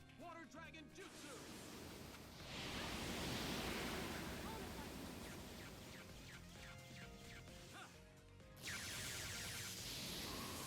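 A Water Dragon Jutsu attack from the Naruto Shippuden Ultimate Ninja Storm game crashes in as loud rushing water and surf-like roar, swelling in two big surges with game effects mixed in.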